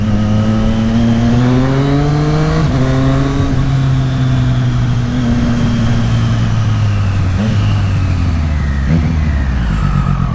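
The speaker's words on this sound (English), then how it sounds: "Today we're riding bikes to work again." A motorcycle ridden on the road gives a loud, steady engine drone that rises and falls in pitch as it changes speed and gears, with constant wind noise and no talking.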